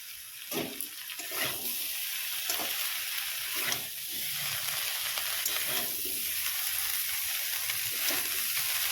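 Bottle gourd greens hitting a hot pan of fried lentils, a steady wet sizzle with scraping stir strokes throughout, close and continuous, no talking.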